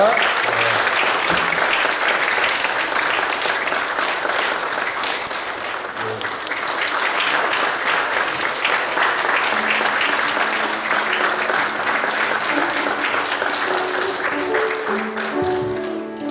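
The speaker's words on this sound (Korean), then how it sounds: "앞으로 나오시고 박수로 환영해 주시기 바랍니다." A church congregation claps continuously and fairly loudly to welcome four pastors at a London Korean church installation service, steady applause filling the room throughout.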